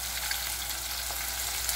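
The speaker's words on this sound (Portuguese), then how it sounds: "Já estou fritando a linguiça." Calabresa barbecue sausage links frying in a pan, a steady dense sizzle and crackle throughout, close and fairly loud with no talk.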